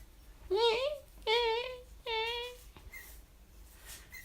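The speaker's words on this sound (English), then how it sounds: "Can you hear the squeak of these scissors?" Scissors squeak three times in quick succession, each a short, shrill, wavering creak, followed by quieter faint clicks at close range.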